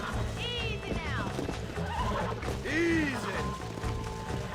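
A horse being broken in Red Dead Redemption whinnies in two loud, shrill bursts, with hoof clatter and a voice talking underneath.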